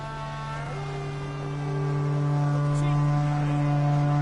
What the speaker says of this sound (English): You'll start when I sound the horn.